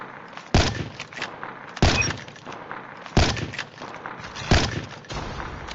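Sniper rifle fire on the Call of Duty Mobile training ground: four sharp, loud shots spaced about a second apart, each with a short echoing tail over a constant game-ambience hiss.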